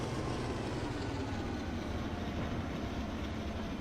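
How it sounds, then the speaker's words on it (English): Trains racing in the video game Transport Fever, a steady low rumbling rail roar that holds constant throughout, fairly quiet with no talk over it. "There's our French train down at the bottom there"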